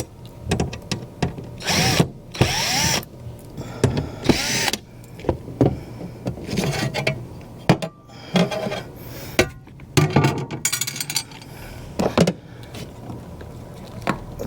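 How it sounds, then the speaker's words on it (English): Power screwdriver or drill whirring in short bursts as screws are pulled from the fuel pump access cover of a Mazda CX-5, with clinks and handling noises between runs, close and fairly loud. "So let me set this up and pull these screws out."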